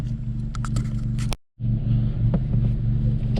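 A VW MK7 GTI fitted with a Mamba GTX3071R turbo, its engine droning and rumbling close by in a steady idle-to-rev tone, cut by a brief dropout before the same loud, even engine note resumes.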